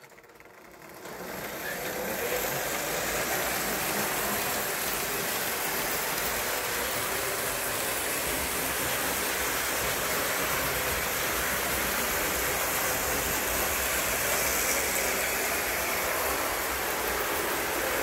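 A model 0-6-0 steam-style locomotive, a unique 384, runs steadily on toy track under transformer power, giving a constant close whirring and rumbling hum of motor and wheels that holds level for the whole stretch after a brief start.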